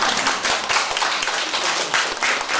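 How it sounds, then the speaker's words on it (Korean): Audience clapping at a live book concert in a hall, a dense, steady wash of many hands close by, filling the whole stretch without talk. "박수 한번 쳐주세요."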